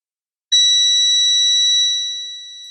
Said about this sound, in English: I've got the meter in continuity mode, so when if the button works, it'll beep.